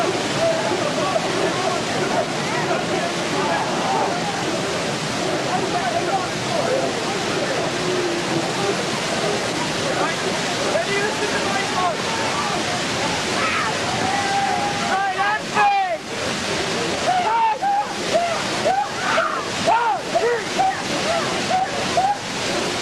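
A waterfall pours down with icy spray, a loud, continuous roaring rush with wind buffeting the microphone, while people talk and call out over it.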